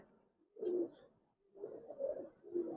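Giribaz pigeons, a silver khaki coloured breeding pair, cooing close by in a few deep, throaty rolling bursts with short pauses between them.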